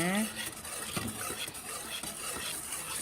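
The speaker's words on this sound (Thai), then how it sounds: "เราก็คนส่วนผสมนี้ให้ละลายก่อนนะคะ" A spoon stirs a mixture of agar powder and water in a pot, giving soft scraping and clinking close by, with a brief voice at the start.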